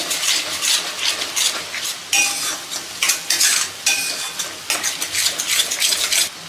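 A spoon scrapes and stirs masala through sautéed tomatoes in a hot pan, loud and close, with bursts of sizzling and metal clinks in an uneven rhythm for dahi chole masala.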